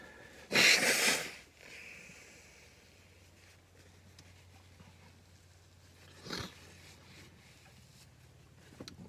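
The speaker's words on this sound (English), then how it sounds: "Excuse me, I'll blow my nose." A loud, short honking nose blow up close after eating an extremely hot chili chocolate, then quiet, with a faint second sniff a few seconds later.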